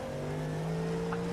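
A race car engine in an iRacing session at Sebring's 12-hour race drones steadily and faintly as it closes on a slower class car, with no clear pass-by swell.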